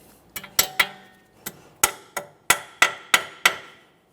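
Ten or so sharp metallic hammer strikes bend over a cotter pin on a steering knuckle nut of a 2014-2019 Toyota Corolla, close and distinct, falling in an uneven rhythm with brief ringing decays.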